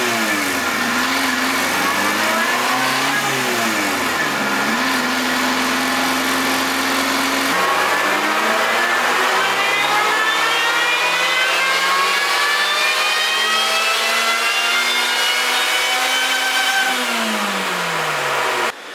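A small 660cc engine revs hard under load on a dyno, its pitch climbing steadily and dropping back, loud and continuous throughout.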